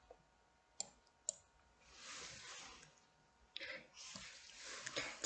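A computer mouse clicks sharply a few times at close range in a quiet room during photo collage editing, followed by soft rustling and faint handling noises.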